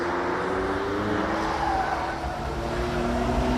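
A supercar engine in fourth gear roars loud and close as it brakes heavily into a tight chicane, a continuous strained drone with no speech over it.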